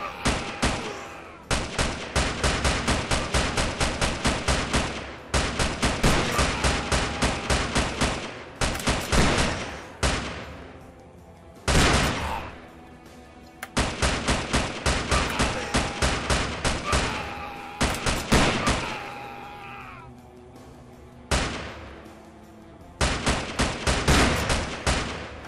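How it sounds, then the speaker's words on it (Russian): Gunfire from the video game 12 is better than 6: loud bursts of rapid repeated shots in tight rhythmic volleys separated by brief pauses, with occasional single heavier blasts and no voices. "одно нажатие на клавиши мыши — это один выстрел"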